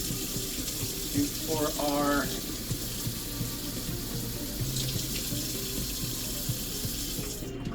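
Tap water running into a pot or sink while instant yakisoba noodles are prepared, a steady close hiss and splash throughout, with someone speaking briefly early on.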